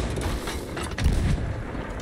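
Cannon shots fire in a video game boss fight, a dense, continuous rumble of booming blasts and explosions that fills the whole stretch at steady loudness, with no talk.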